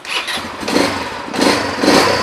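A small ATV engine, a 210 cc Fox, cranks and catches, firing up with a few rough surges of revving, close and loud.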